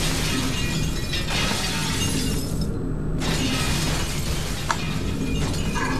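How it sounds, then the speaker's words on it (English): Glass panels smashed by a thrown object in the Star Wars The Force Unleashed video game, a loud sustained shattering crash over dense game noise, with a brief dropout partway through. "prove your mastery of grip by using the object to smash through these three glass panels"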